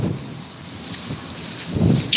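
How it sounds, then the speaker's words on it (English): Strong gusts of wind buffet the microphone on a New York City street, a continuous low roar with rumbling surges that swell louder toward the end. "it's very windy"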